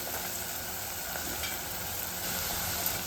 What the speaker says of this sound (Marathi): शिमला घातल्यानंतर आता आपण परतून घेऊया